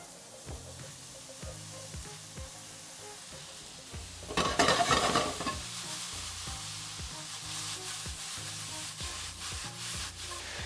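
Shiitake mushrooms dropped into olive oil in a pan over medium-high heat, a sudden loud burst of sizzling that settles into a steady crackling fry, close by with no voices.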